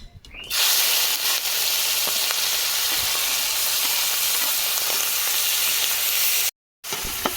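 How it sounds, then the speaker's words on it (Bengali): Shrimp hits hot mustard oil in a kadai, sending up a loud, steady, close sizzling hiss that holds nearly throughout, with one brief drop-out near the end. "সর্ষে তেল দিয়ে দেবো চিংড়ি মাছ ভাজবো তেল গরম হয়ে গেছে চিংড়ি মাছ দিয়ে দেবো"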